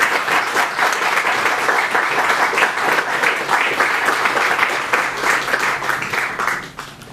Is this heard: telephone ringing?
no